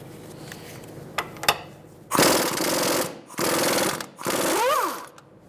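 An air impact tool hammers at 22mm brake caliper bracket bolts on a 2007–2012 Nissan Altima, three loud rattling bursts near the mic after a few clanks, the last one winding down.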